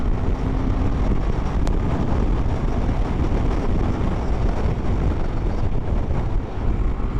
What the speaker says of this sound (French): Oh, le vent est terrible, il te pousse.